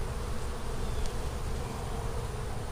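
Honey bees from a relocated swarm buzz in a dense, steady drone as their comb is torn out, a close, continuous hum with no talking.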